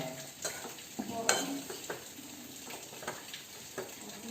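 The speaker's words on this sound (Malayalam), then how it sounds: "അപ്പോൾ ഇതാ നല്ല വെള്ളം ഇളക്കി കൊടുത്തുകൊണ്ടിരിക്കുകയാണ്." A spoon stirs water into a potato masala mixture for an eggless cutlet in a hot pan, with a soft sizzle and a few sharp scraping strokes against the pan, close and quiet.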